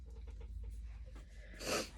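Sniffling from a person with a cold, several faint quick nasal sniffs ending in one stronger snort, close and quiet with no talk.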